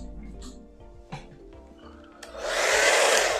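A hair dryer switches on partway through and then roars steadily, close and loud, as it dries watercolour paint on a misty landscape painting, after a few quiet clicks and handling sounds.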